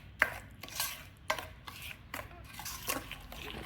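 Pieces of avakkai mango pickle are mixed into chili oil, giving quiet, intermittent scrapes and soft clinks of a spoon against the bowl, repeated every second or so.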